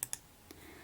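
Two quick, sharp mouse clicks close together, followed by a fainter third click, quiet and close in an otherwise still room.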